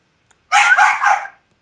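A dog gives one short, loud, close bark lasting under a second, heard alone against silence.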